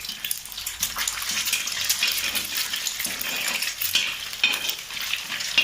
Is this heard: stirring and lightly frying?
yes